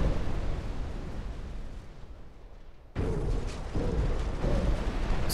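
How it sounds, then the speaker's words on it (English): Torpedo hits exploding against a battleship in Ultimate Admiral: Dreadnoughts, a naval warfare game: a loud broadband blast hits hard midway, following a quieter rumbling stretch, and then rolls into a sustained roar with further dull booms. "we're going to hit them with 1, 2, 3, at least 6 torpedoes"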